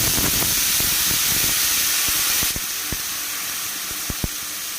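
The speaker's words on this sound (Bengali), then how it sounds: "এই পর্যায়ে আমি দিয়ে দেব পিষে রাখা সর্ষে আর গোটা জিরে।" Ground mustard paste and whole cumin hit hot oil in a pan, giving a loud, steady sizzling hiss that drops sharply partway through, followed by softer frying with scattered pops and clinks.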